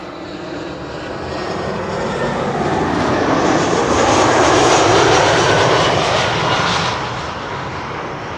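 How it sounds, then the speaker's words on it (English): An Iberia Airbus A319 arriving at Schiphol on the Kaagbaan runway 06 roars steadily, swelling to a loud broadband peak mid-pass before easing off, with no voices. "this is Iberia, flight 731, arriving from Madrid, A319 in the One World livery"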